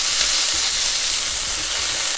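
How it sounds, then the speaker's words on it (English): Chicken meat sears in a hot frying pan for Japanese mixed rice, a loud continuous sizzle and crackle with a few soft clinks of stirring, no voices. "And then I'm just gonna sear the meat like this."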